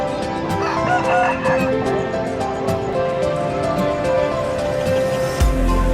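Aseel chickens cluck busily while a rooster crows at a poultry market, a dense chorus of overlapping calls that carries on steadily throughout.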